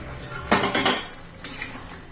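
A metal pot lid handled while drumstick curry cooks, a few close clanks and scrapes of metal on metal in quick succession, then a final clatter, no talk.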